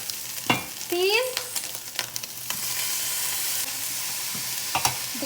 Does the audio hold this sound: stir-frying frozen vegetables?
yes